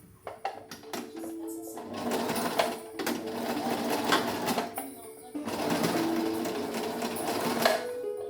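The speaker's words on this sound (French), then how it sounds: "il va falloir mettre le soupon et le piquer" A sewing machine topstitches fabric near a zip on a garment, running in long close whirring bursts separated by short pauses.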